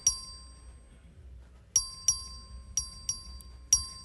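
Bell rung by the clerk to call a record vote in the Texas House of Representatives, sounding as a series of bright, ringing metallic dings, close and moderately loud, in an irregular sequence of strikes over a low background rumble.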